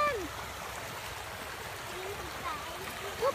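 A river stream flows with a soft, continuous rushing wash, faint and low beneath people talking quietly nearby.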